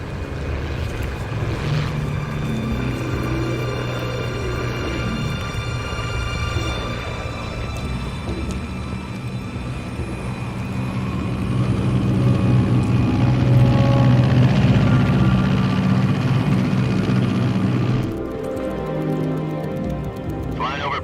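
Aircraft engine droning in flight over Soviet airspace in Metal Gear Solid 3, a steady low rumble throughout with a swelling louder stretch in the middle, under game voices and sound effects.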